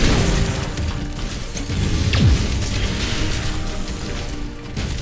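A fort crumbling in the video game Heroes of the Storm, a deep booming crash with a sweeping downward tone near the middle, set within dense game music and effects throughout.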